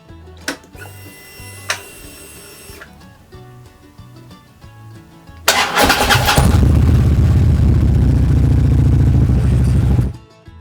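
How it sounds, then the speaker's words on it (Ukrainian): After a few clicks and clatters, a Harley-Davidson motorcycle engine cranks and catches, then runs at a loud, steady idle while warming up before cutting off abruptly. "Щоб масло було рідке і стікалося з картеру двигуна добре, прогріваємо двигун"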